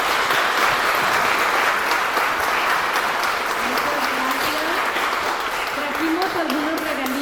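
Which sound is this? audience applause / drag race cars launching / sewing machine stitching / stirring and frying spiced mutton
audience applause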